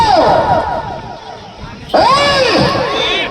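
A loud crowd yelling and cheering all at once, many overlapping voices, dipping briefly before surging back even louder.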